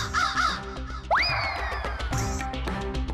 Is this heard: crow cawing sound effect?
yes